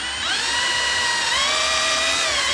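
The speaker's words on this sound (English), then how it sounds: "I'm going to drill a pilot hole first." A power drill bores a pilot hole in the lid of a Whirlpool washer as part of a lid-switch defeat. The motor whines high and steady, close up, and stays nearly constant throughout.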